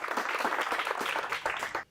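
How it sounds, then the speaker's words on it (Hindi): An audience in a studio welcomes farming experts with dense, steady applause from many hands, brief and fairly close, fading at the very end. "सबसे पहले हमारे एक्सपर्ट्स का जोरदार तालियों से स्वागत करते हैं।"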